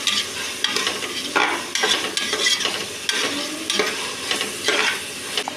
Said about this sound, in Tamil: அடுத்ததாக நம்ம கழுவி வச்சுருக்கிற சிக்கனை இதில் போட்டுக்கலாம்.